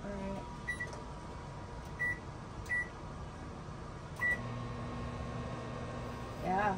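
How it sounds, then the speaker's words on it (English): A microwave oven powered by a Growatt Infinity 2000 off-grid system gives several short electronic beeps over a steady low running hum, with a louder rise in noise at the end. "why don't you test the microwave?"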